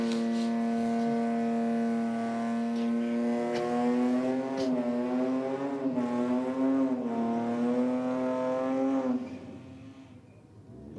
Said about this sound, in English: We've got the Subaru WRX about to come out now.